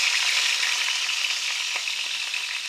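Three whole tomatoes frying in hot oil in a pan for tomato chutney, a dense, continuous hiss of sizzling oil heard close and steady throughout.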